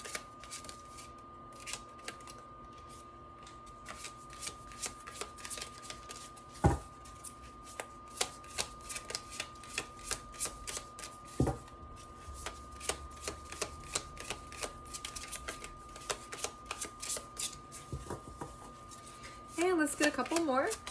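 Tarot cards are shuffled and drawn for a reading, giving rapid soft riffling and flicking with sharp snaps of cards being laid down, steady and close, while someone talks over it.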